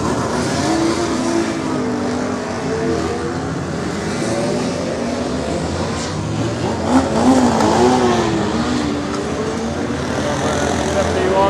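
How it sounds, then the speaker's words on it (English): Racing motorcycles, including a 750 BMW, roar on the Cookstown 100 road course, their engines droning and rising under continuous commentary, with one bike swelling louder as it passes. "The BMW there, the number 29 machine of Brian Loughlin."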